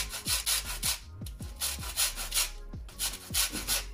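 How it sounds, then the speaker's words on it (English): A lemon being zested on a metal grater makes quick, rhythmic rasping strokes, about a dozen evenly spaced scrapes, close and fairly loud, with no voices. "I'm going to add a little bit of lemon zest. We're going to zest it before I add it there."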